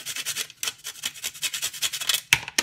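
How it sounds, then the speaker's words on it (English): Whole nutmeg is grated by hand for Jamaican gizzarda pastry, giving close, quiet rhythmic rasping strokes in a quick steady series. "I'm going to grate the nutmeg on all these things that I have here"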